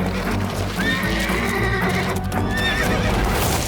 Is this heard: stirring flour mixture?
no